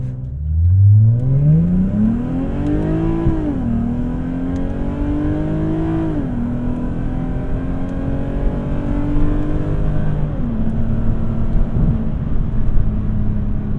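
A 2006 Lexus IS350 with a modified, re-welded exhaust and small mufflers accelerates hard, its loud engine note rising through several gears with clear shift dips before settling into a steady high roar.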